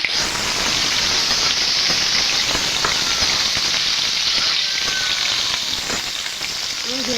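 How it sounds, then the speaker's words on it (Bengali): Small rohu fish frying in hot oil in a home kitchen, a loud, steady sizzle with dense crackling and spitting that holds throughout, with a few faint stirring touches near the end. "মাছগুলো হয়ে গেছে ভেজে নিয়েছি উল্টো পাল্টে তুলে নেবো বাকি মাছগুলো দিয়ে দেবো"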